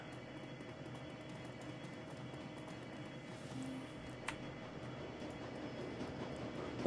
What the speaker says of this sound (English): You hear the screeching sound of steel on steel as the train grinds to a halt.